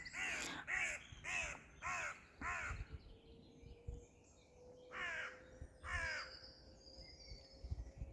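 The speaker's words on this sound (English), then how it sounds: "Oh, there's a crow." A crow caws repeatedly outdoors, a run of five harsh calls followed by two more after a pause, fairly close and clear with no talking.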